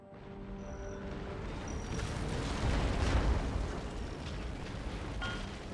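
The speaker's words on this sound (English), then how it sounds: "Oh, they're firing their own cannons from inside the wall." Cannon fire from a siege in the video game Total War: Empire, with guns firing from inside a fortress wall, heard as a rolling, rumbling boom that swells to a peak midway and slowly fades under a constant battle din.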